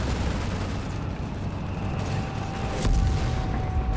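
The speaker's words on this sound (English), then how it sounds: "Mortar fire landing closer to the 30 cal" Mortar rounds and thrown grenades burst in a Company of Heroes 3 battle, a dense rumble of low booms with a sharper blast near the end, no voices.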